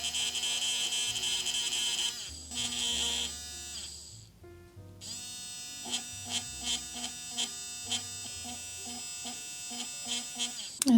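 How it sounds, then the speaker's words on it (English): An electric eraser buzzes against sandpaper while sharpening its tip for a pencil portrait drawing, giving a steady whirring hum with a short pause and then repeated brief bursts, close and moderately loud. "I'm going to use an electric eraser for this, and to have a really sharp pointy tip, I am rubbing this against sandpaper"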